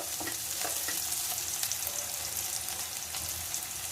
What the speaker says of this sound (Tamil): இப்போ நான் இதுல ஆனியன் போடுறேன்.